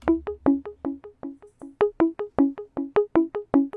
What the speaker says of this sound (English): So from here I added this pluck from my boy Shark's one-shot kit.